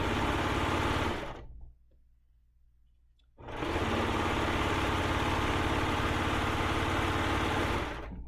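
A serger sewing machine runs at a steady, loud mechanical whir while stitching quilt binding, stopping for about two seconds of near silence before running again continuously.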